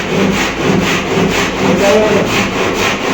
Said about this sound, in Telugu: ఇక రంపంతో పోస్తున్నారు